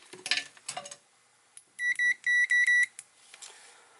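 ZOYI ZT-QS7 clamp meter in continuity mode gives a sharp electronic beep, a brief chirp, a pause, then a string of short repeated tones in a rapid stuttering pattern, loud and close with handling noise around it.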